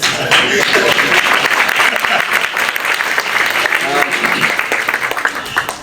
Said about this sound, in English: That would be a nice way to get a nice round of applause.